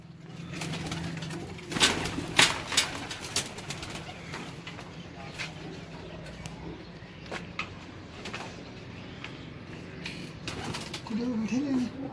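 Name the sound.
pigeons cooing on a rooftop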